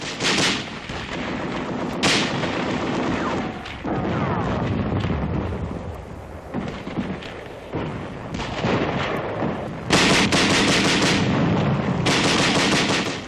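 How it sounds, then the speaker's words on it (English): Tanks and Bren light machine guns give supporting fire in 1944 World War II canal fighting near Boxtel, Netherlands. Rapid bursts and heavy booms come in loud, dense volleys separated by short pauses. "Tanks and Bren guns giving supporting fire."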